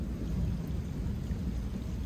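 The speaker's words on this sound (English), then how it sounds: "Can hear the thunder roll." Low, continuous rumble of rolling thunder during a rainstorm outdoors, deep and sustained with no distinct cracks, heard alone without talk.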